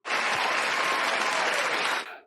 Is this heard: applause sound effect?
yes